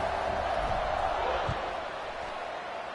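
Stadium crowd noise in an NCAA 26 college football video game, Duke versus Tulane, a steady broad roar at kickoff after a scoring drive, with commentary voices over it.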